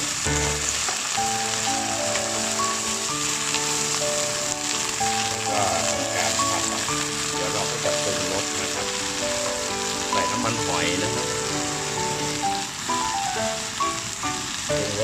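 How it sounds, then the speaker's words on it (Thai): Garlic chives stir-frying with liver in a hot pan, a steady loud sizzle with occasional stirring scrapes, close and continuous, with music underneath. "ผัดคลุกเข้าให้เข้ากันนะครับ"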